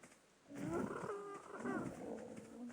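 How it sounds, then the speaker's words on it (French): Seagulls attacking the player in ARK, giving faint, wavering bird calls in short bursts over a quiet background. "Ça y est, je suis attaqué par des mouettes."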